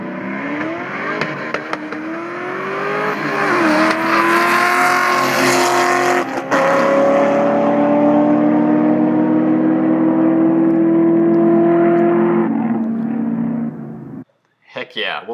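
A 2000 Mustang GT with a Kenne Bell turbo setup launches in a drag race, its engine roaring loud and close with steadily climbing pitch through the gears for about fourteen seconds before cutting off abruptly.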